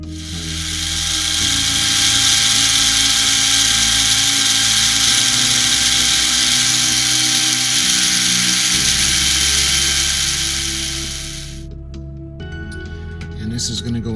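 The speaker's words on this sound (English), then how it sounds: "I ran the drill. We put the hole." A power drill boring a hole in a U.S.S. Reliant scale model whines loudly and continuously for several seconds, its pitch wavering under load, then stops abruptly; a voice speaks faintly underneath.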